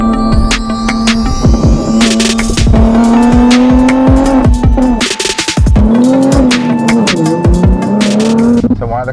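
Modified BMW G80 M3 manual driving, engine humming steadily, rising in pitch, then dipping briefly at a shift before climbing again, with loud tire and road noise close up.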